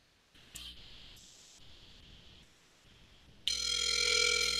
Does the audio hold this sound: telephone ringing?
yes